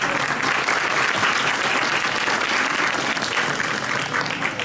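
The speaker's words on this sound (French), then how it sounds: "Des États-Unis, j'aimerais vous inviter aussi à applaudir Robert Johnston." Sustained audience applause at the 2018 Cannes Film Festival ecumenical jury award ceremony, a dense, steady clapping from a large crowd that stays loud and even throughout.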